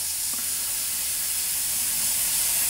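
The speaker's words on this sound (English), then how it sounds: "this airbrush is working beautifully" A Tamiya HG SuperFine airbrush spraying paint gives a steady, close, bright hiss of air that holds constant throughout with no other sounds.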